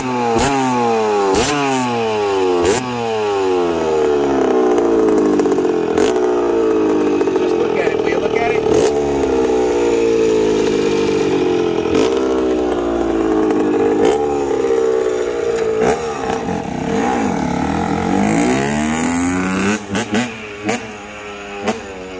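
A 1984 Honda CR60R two-stroke motorcycle with a 6-speed transmission revs loudly up close, rising and falling in repeated sharp throttle blips between steadier runs.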